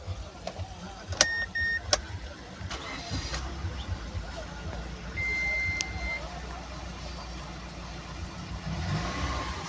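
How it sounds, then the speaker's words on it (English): A Mazda CX7 that had a lean-off-idle fault is started. After a few chimes and beeps, the engine fires and settles into a quiet, steady idle, heard at low level from inside the car. "So let me try to start the vehicle."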